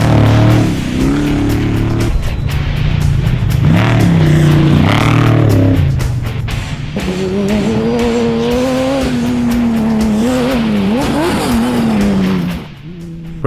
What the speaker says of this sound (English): Adam Flanagan threw his trophy truck around the track to claim second outright.